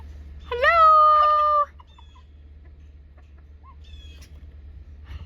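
A single chicken gives one loud, drawn-out call near the microphone, then only quiet barnyard background with faint chirps and a steady low hum.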